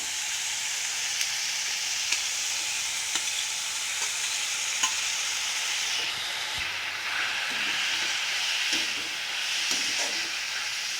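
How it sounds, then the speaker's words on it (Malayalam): Prawns fry in a pan for prawn curry, giving a continuous close sizzle and hiss with occasional scraping clicks of stirring and no talk. "ഇതിലേക്ക് നമുക്ക് നമ്മുടെ കൊഞ്ചൂടി ഇട്ട് കൊടുക്കാം"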